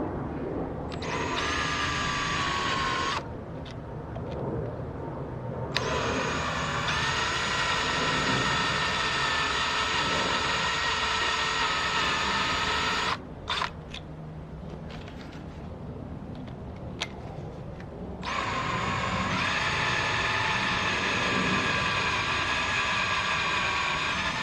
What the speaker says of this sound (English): we're going to drill slowly and keep it lubricated with cutting oil